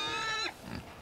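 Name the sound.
pig grunting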